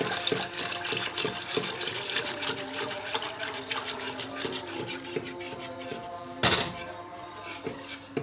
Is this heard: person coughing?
no